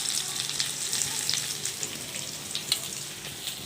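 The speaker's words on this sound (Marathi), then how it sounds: "मिक्स करून घ्यायचे आणि छान क्रिस्पी होता तोपर्यंत याच्यामध्ये परतून घ्यायचे" Muthiya are sautéed in a pan until crispy, with a steady close sizzle marked by small pops and stirring scrapes, and no voices.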